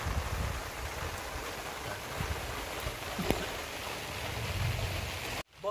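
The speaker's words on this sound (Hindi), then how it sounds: "बारिश हो रही है" Steady rain falls outdoors, a constant broadband hiss of drops on surfaces with low rumble underneath, continuous and fairly close, with no talking over it until a brief pause near the end.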